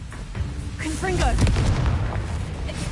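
A Confringo blasting spell in Hogwarts Legacy bursts with a booming, rumbling explosion that swells and lingers for a couple of seconds, mixed with a speaking voice.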